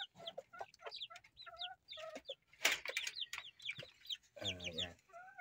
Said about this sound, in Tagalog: ito yung kanilang mga sisiw